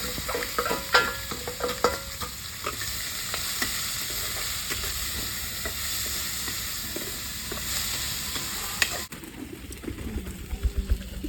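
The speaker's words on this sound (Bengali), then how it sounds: "লবঙ্গ গোটা জিরে একসঙ্গে দিয়ে দিচ্ছি দুটো তেজপাতা পেঁয়াজ ছোটো কাটা পেঁয়াজ দিয়ে দিচ্ছি" Whole cloves, cumin seeds, bay leaves and chopped onion fry in hot oil with a steady, close sizzle and occasional stirring scrapes, and the tone shifts near the end.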